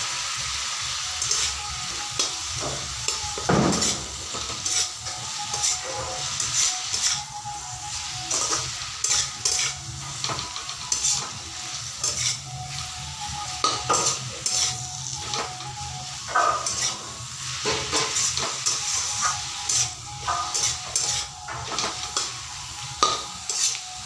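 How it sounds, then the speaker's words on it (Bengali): Chili and garlic paste sizzles steadily in a hot pan while a utensil stirs it, scraping and clinking against the metal in an irregular rhythm, close and clear with no talk. "রসুন আর লঙ্কার পেস্ট দেওয়ার পরে আমি খুব ভালো করে ভেজে নিয়েছি যাতে কাঁচা গন্ধটা চলে যায়।"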